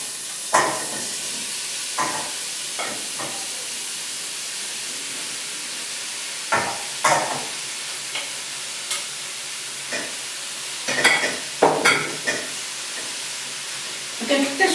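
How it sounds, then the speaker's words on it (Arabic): Onion frying in hot oil in a pan, with a broad steady sizzle and intermittent scraping stirs that come in short bursts, loud and close, with no one talking. "البصله كنلوحها في الكميله فيها الزيت سخونه باش ما تطلقش ليا الماء"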